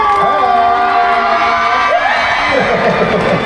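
A studio audience cheers and shouts for a film's cast on an Indonesian TV music show, a dense continuous crowd roar with whoops and a voice or tones ringing over it.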